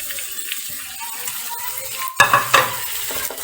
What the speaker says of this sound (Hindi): अब हम इसको मिक्स करेंगे अच्छे से।